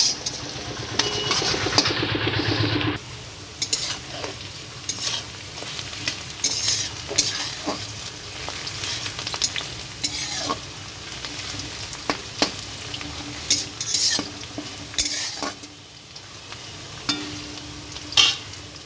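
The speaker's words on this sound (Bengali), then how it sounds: "পেঁয়াজগুলো লাল লাল করে ভাজা হয়ে যাবে" Onions frying in a pan for a village-style lunch, a continuous close sizzle broken by repeated scraping stirs and clinks, with a low engine-like hum underneath.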